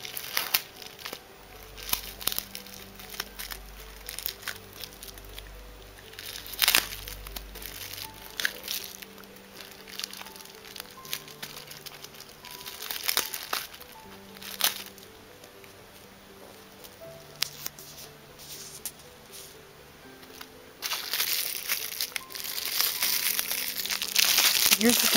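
Crinkly plastic packaging around enamel pins is handled and torn open, with irregular crackling and rustling bursts coming close and fairly loud, some quieter handling between them, and a denser stretch of crinkling toward the end.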